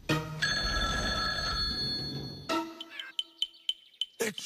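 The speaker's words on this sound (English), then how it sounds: "Someone should answer the phone here." A telephone bell rings loudly and continuously for about two seconds, then stops abruptly, followed by a few short, sharp clinks and taps.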